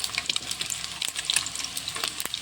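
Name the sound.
stirring turmeric into frying food in a pan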